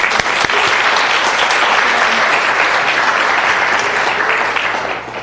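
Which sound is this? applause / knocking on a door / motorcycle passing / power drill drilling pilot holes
applause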